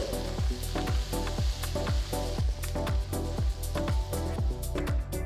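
Onions fry with turmeric and salt in a pan over a medium flame, a steady sizzle broken by rhythmic scraping stirs that repeat about twice a second.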